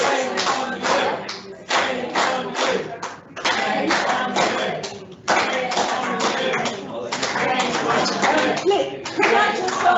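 Applause and tapping from people in a council cabinet meeting room, bursts of dense clapping in uneven waves with brief pauses, fairly loud and close, with some voices mixed in.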